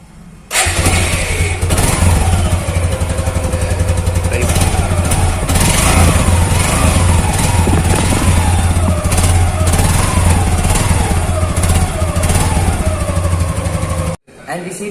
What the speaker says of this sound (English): let us hear the exhaust note of this vehicle